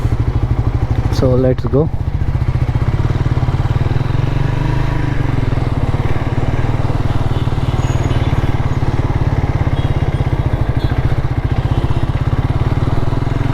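A Triumph Tracker 400 motorcycle engine idles with a loud, steady low thumping beat right next to the listener, unbroken for the whole stretch, while someone speaks briefly near the start.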